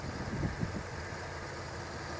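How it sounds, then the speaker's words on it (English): A Mercedes GL450 V8 engine idles steadily up close, a smooth, even low rumble with no ticking or squeaking. "As far as how the engine runs"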